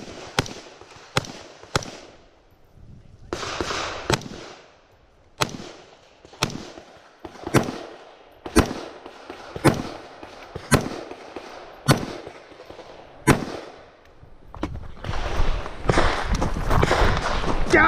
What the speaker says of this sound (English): Get to shoot some AR, and then transition to pistol.